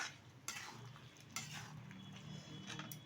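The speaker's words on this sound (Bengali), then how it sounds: "তো নেড়ে নিচ্ছি আবারও।" Close scraping strokes of a spoon stirring a salted chicken mixture in a pan, a few distinct scrapes over a soft background, no voices.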